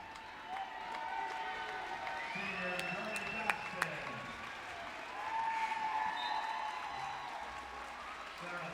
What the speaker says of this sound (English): a big round of applause from the fans and hugs from her teammates